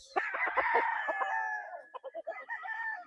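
A Sweater Claret cross gamefowl rooster crows loudly and close by, one long drawn-out crow followed by a choppy, broken tail of shorter notes, heard alone without talk.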